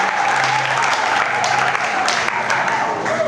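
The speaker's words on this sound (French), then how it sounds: "est-ce qu'on peut les encourager par les acclamations?" An audience applauds and cheers at a talent show, a dense, steady wash of clapping that holds loud and unbroken throughout, with occasional shouts rising above it.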